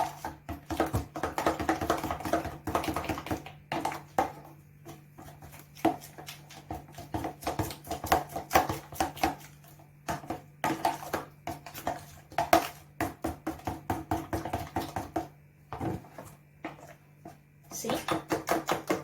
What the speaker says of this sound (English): Now let's continue stirring.